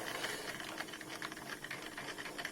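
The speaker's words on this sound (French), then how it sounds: "levier fait tomber à 180 degrés les coulisseaux qui font que la machine tourne dans l'autre sens maintenant" A small live steam engine with Maudslay reversing gear runs in reverse, giving a quick, even mechanical chuffing and clatter with a soft hiss, close and fairly quiet.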